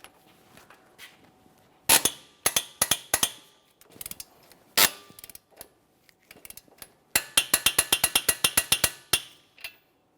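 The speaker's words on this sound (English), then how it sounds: "Now I'm going to hold the bolt head with my wrench here. Got our torque wrench ready." A torque wrench tightens a 117 foot-pound bolt on the CV axle of a 2014-2018 Mazda 3, giving sharp metallic ratchet clicks, first in short scattered bursts and then a fast run of evenly spaced clicks near the end.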